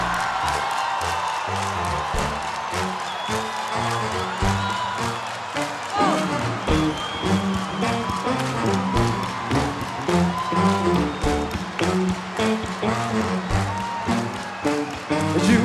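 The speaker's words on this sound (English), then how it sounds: "Clap your hands." A live concert audience at a 2011 performance claps steadily in rhythm along with the band's music, with cheering mixed in.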